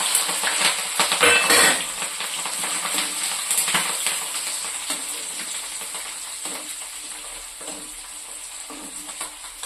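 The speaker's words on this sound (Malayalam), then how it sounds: "ഞങ്ങൾ വഴറ്റിയെടുക്കുന്നത് നല്ലോണം വഴറ്റിയെടുക്കാം നമുക്ക് കേട്ടോ" Ginger, garlic and green chili sizzle in a hot pan as a spoon stirs and scrapes, with bright metallic clinks early on, then a steady softer frying hiss.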